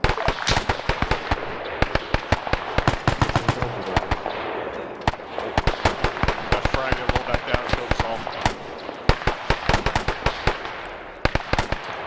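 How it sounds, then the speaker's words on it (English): Rapid bursts of gunfire and explosions from a WW2 game mission clearing Japanese tunnels, with a frag grenade going off among dense, loud crackling shots that continue throughout. "he just said the frag rolled back down and killed us all"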